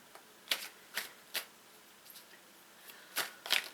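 Playing cards are handled and shuffled in a quiet room, giving a series of short, crisp riffling flicks spaced irregularly, close and fairly soft.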